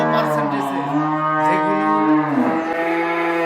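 Cattle on a cow farm: one close, loud, drawn-out moo with a strong tonal, harmonic-rich bellow that wavers and dips in pitch near the end, filling the whole short span.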